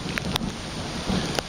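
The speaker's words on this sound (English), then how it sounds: "still raining" Rain and gusting wind in the early morning during Hurricane Isaac in southern Alabama, a steady dense hiss of rainfall with wind buffeting the microphone and a few sharp brief gusts.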